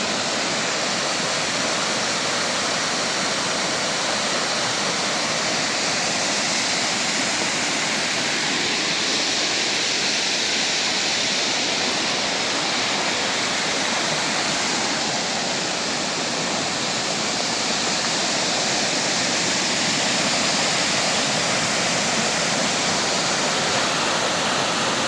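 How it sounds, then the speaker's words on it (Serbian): A waterfall on the Tisnica river at Dubašnica pours in a steady, dense roar of rushing water, loud and unbroken throughout with no voices. "I vodopad koji do sada nikad nisam vidio na Dubošnici"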